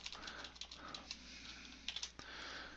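A computer keyboard clatters as a command is typed in a Linux terminal, close, quick uneven keystrokes in short bursts with a few louder key presses.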